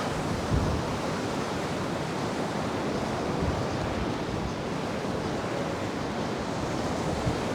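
Strong wind gusts buffet the Paphos seafront in Cyprus during Storm Byron, a loud, unbroken roar of broadband rushing noise mixed with surf-like wash, steady for the whole stretch with no voices.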